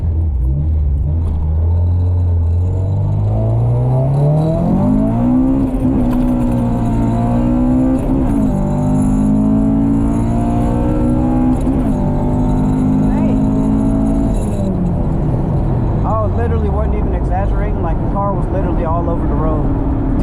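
A Honda Civic with an H2B engine swap drives along, its engine droning loud and close, the pitch climbing steadily and then holding before easing off near the end.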